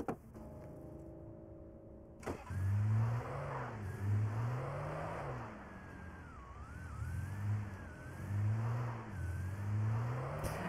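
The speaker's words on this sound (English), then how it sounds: "And I guess that is the car I will use to jump that thing." A car's engine in the video game Alan Wake revs and accelerates, rising and falling in repeated surges through several gear changes, loud and close with a faint whine above it.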